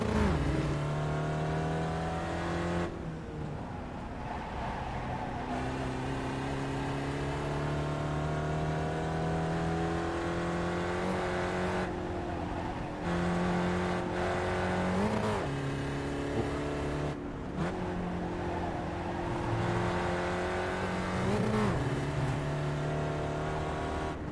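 A Spec Racer Ford race car in the iRacing simulator, its engine droning and revving steadily through repeated upshifts and throttle lifts, loud and continuous for the whole stretch with no talk.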